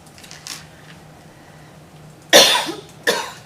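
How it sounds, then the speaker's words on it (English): Two sharp, harsh coughs close to the mic, spaced about a second apart, after a quieter faint cough and low room hum. "Why I keep coughing."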